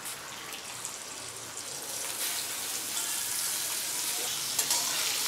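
Chopped tomatoes fry in hot oil for a spicy tomato and onion chutney, giving a steady, close hiss and crackle that runs unbroken throughout.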